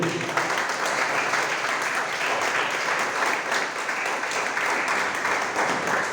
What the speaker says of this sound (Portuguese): Dê um louvor de palmas para Jesus